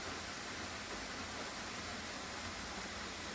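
Waterfall at Silver Falls, Oregon, on the Trail of Ten Falls: a steady, dense roar of falling water, loud and unbroken throughout with no other sounds.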